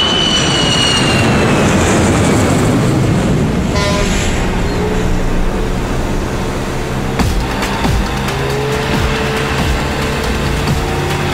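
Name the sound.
airplane landing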